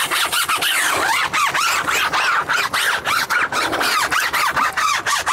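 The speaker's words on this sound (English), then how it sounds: "So I'm gonna give this a scrub with the Gyeon brush and the soft touch brush" Stiff Gyeon brush scrubbing the tires of a Ford GT during a prep wash, a steady run of close, rhythmic rasping and squeaky bristle strokes with short pauses between passes, no voices.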